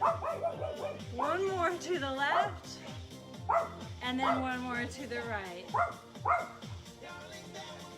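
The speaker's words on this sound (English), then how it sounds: "Sorry about the dog." A pet dog barks and yips repeatedly in short bursts during an indoor senior fitness class, some notes rising into whimpers, while an instructor keeps talking over it.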